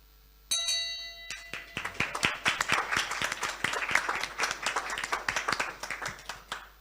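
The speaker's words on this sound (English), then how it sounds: "you ring the bell to call the meeting to order" A hand bell strikes once with a ringing tone to open a Rotary club inauguration meeting, quickly drowned by sustained, loud applause and clapping from the gathered audience.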